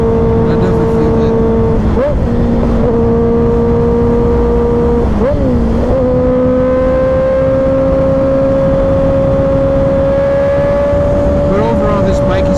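A 2024 Kawasaki Ninja ZX-6R 636 sport bike hums at a steady engine note with slight rises and dips while riding, wrapped in strong wind rush; a rider talks over it.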